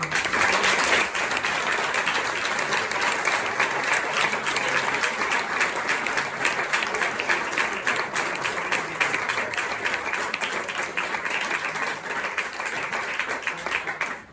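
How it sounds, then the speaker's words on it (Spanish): A large audience applauds loudly and continuously at a talk on poetry and song, dense clapping sustained for the whole stretch before cutting off at the end. "un aplauso por favor para Nacho"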